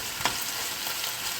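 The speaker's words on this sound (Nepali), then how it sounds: "अघि मिक्स गरेर राखेको चिकन यसलाई पनि फ्राई गर्दैछौँ" Marinated chicken for pulao fries in a pan, giving a low steady sizzle with one brief scrape of a utensil near the start, close and unaccompanied by speech.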